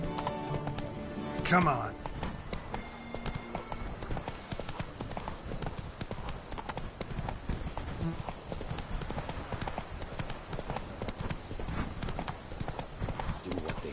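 In The Witcher 3, the horse Roach gallops in a rapid, steady clip-clop of hooves that keeps up throughout, with a voice calling out briefly over it near the start.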